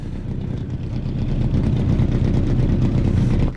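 Engine of an Alfa Romeo Giulia TZ2 lapping the historic Nordschleife in a racing video game, a steady loud mid-pitched drone that swells slightly over a few seconds, with no voices.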